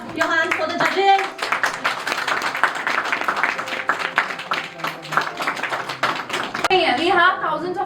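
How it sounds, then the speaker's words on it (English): An audience at a student debate applauds the judges, dense steady clapping lasting several seconds, with voices at the start and end. "So please clap your hands for the judges."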